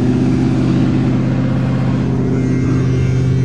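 A 1976 Chrysler New Yorker with a 400 big-block V8 idles steadily in deep snow, a loud, continuous low rumble with a faint rise in revs partway through and no voices.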